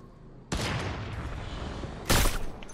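Sniper gunfire in a shooter video game: two loud, sharp broadband blasts, the first with a long sustained roar afterward and the second a short burst about a second and a half later, with no talking.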